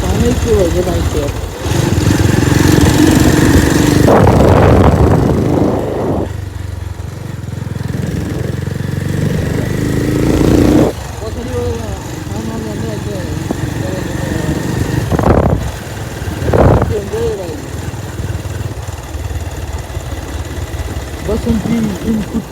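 A motorcycle engine on a foggy morning ride in Nepal, a continuous mid-pitched drone with wind buffeting and a few louder surges, while someone talks over it much of the time.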